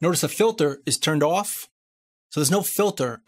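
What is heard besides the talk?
None of the usual background noises is heard.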